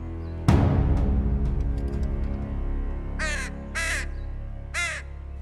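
A crow caws three times, loud and fairly near, after a sharp struck sound and sustained ringing tones in the background.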